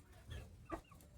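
Saigon chicken hen clucking in a farm coop with her chicks, two soft short clucks over a quiet rustling background, fairly distant and faint, with no talk.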